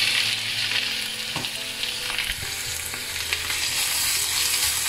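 Prawns fry with half a teaspoon of fennel seeds in a pan for an onion-leaf prawn stir-fry, producing a strong, close, continuous sizzle punctuated by a few stirring scrapes, with no talking.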